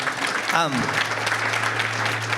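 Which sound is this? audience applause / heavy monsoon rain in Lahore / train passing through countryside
audience applause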